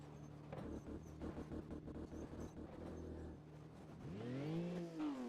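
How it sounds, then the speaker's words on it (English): Racing car engine in a driving video game, a steady revving drone that rises and whirs into an accelerating pitch sweep near the end, fairly faint with no talk. "You can hear the car."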